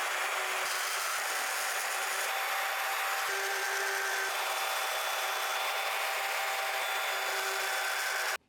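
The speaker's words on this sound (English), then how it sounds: "I'm over at the saw. We'll make some relief cuts" A power saw makes relief cuts in a metal piece while fitting Tilton pedals and a reservoir to a C5 Corvette, a steady close-up whine and rasp that runs unbroken for about eight seconds before stopping abruptly.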